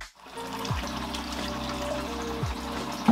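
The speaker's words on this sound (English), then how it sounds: "I'm going to take our 10-gallon tank and rinse it down real good and also get all that gravel out of there." Water runs steadily while a 10-gallon fish tank is rinsed out with gravel still inside, a close, continuous gushing with pump-like tonal hum and a brief splash near the end.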